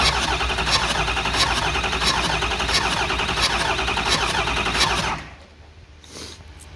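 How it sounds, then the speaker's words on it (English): A Ford 6.0L Powerstroke diesel, hydro-locked with fuel in a cylinder, cranks over steadily for about five seconds with a rhythmic starter churn, close and loud, then cuts off abruptly, leaving a faint quieter tail. "It'll just crank the engine, and now we can get it to turn over."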